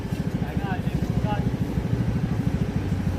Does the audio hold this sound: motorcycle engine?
yes